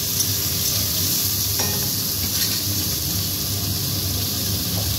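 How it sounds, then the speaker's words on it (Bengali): Green tomatoes, with onion and a bay leaf, fry in oil in a pan, giving a loud, steady sizzle and hiss with occasional stirring scrapes close by. "ভালো করে নেড়ে একটু ভাজা ভাজা হবে"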